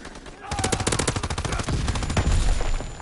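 Thompson submachine gun fire in a WW2 video game, rapid automatic bursts that rattle on loudly through the whole stretch, with a voice faintly present underneath.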